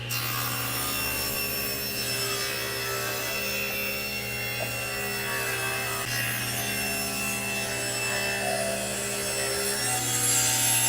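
A saw cuts wooden door stiles to length for a kitchen cabinet door, a steady, continuous machine drone running loud and unbroken throughout with a constant hum beneath.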